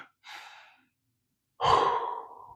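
A person breathing deeply to calm down: a short, airy intake, a pause of silence, then a longer, louder sighing exhale, close to the microphone.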